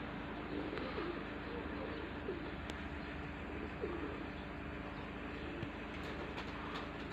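Tumbler pigeons in flight coo softly in the distance over a steady low background rumble, with occasional faint wing flutters and brief clicks.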